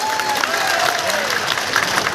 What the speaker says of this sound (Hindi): और जोरदार ताली बजाओ।